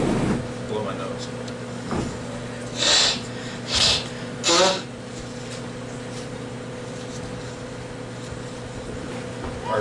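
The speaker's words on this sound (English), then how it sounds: "I'm going to blow my nose." Three short, forceful nose blows, spaced about a second apart, stand out against a low steady hum in a quiet room.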